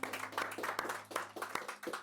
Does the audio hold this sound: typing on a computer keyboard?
no